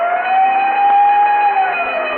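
Siren sound effect from the Texaco Fire Chief radio show: a loud, sustained wailing tone that holds steady and dips slightly near the end, heard alone with no clear bell.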